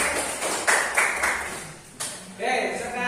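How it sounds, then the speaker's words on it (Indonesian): Classroom applause for a fifth-grade student at an Indonesian primary school: scattered, uneven clapping from a small group, with a few sharper claps standing out, under and around the teacher's voice. "Oke, boleh duduk, beri aplaus."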